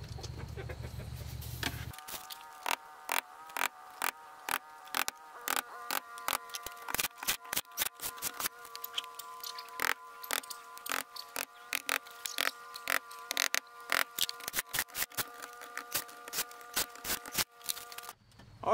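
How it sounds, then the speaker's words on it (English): Screws driven into a mobile home window flange, heard as a long run of close, rapid, sharp clicks and ratcheting bursts with brief gaps, over a faint background hum. "So I'm just gonna go around and start all these screws around the flange here and get these put in."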